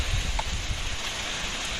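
Heavy monsoon rain pours steadily over rice paddies in the Konkan countryside, a dense, continuous hiss with a low rumble beneath, constant and close throughout.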